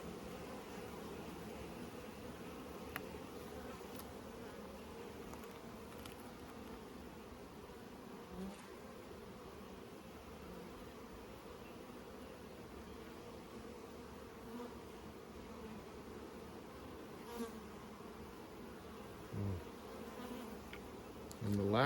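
Constant low buzzing of many honeybees inside a large hive, a dense steady hum with faint occasional knocks and rustles, no voices.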